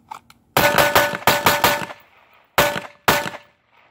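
Handgun shots fired at silhouette targets on a range: five sharp reports in quick pairs and singles, each ringing briefly with a metallic clang from steel, close and loud with no talk.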